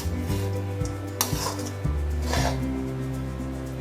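Sabudana khichdi with roasted peanuts and salt being mixed in a pan, a steady scraping and rubbing stir with a few sharper clinks of the spoon against the metal, close and alone without talk.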